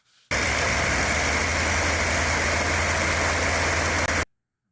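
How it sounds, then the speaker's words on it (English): A Verner Kitfox 5 aircraft engine runs steadily just after starting, a loud, constant drone that holds at an even pitch for about four seconds before cutting off abruptly into silence. "Got outside today and started the engine."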